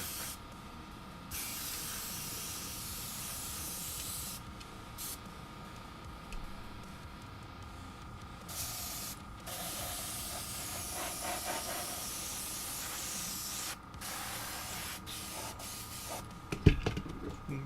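Long bursts of hissing aerosol spray paint coating a 1/16 scale Puma model start and stop repeatedly, close by, with brief pauses between passes and a faint background hum.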